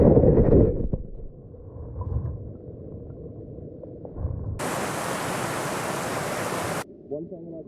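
A GoPro Hero 8 Black action camera plunged fully underwater, giving a muffled submerged rumble followed by a sudden loud broadband wash of water noise that cuts off abruptly.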